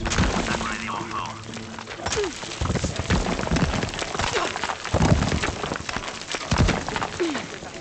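Steady heavy rain pours in the video game Shadow of the Tomb Raider, a dense hiss that fills the scene, with occasional thumps and clatters breaking through and a few sporadic voices beneath it.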